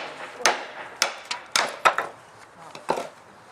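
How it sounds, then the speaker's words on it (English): A cheap knife chopping pieces of 2x4 wood into rocket stove fuel, with about eight sharp, close thwacks at an uneven pace and short quiet gaps between them. "you can take these things and just cut them up and make your own rocket stove fuel"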